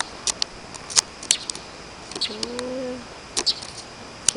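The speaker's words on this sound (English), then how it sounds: "There's the bird." A pigeon or dove coos once outdoors near a mailbox, a soft low two-note call in the middle of scattered clicks and light background noise.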